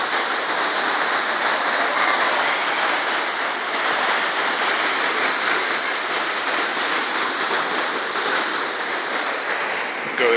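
Fall Creek rushes after two days of rain: a loud, steady broadband roar of fast-flowing water fills the whole stretch without pause, close by and constant.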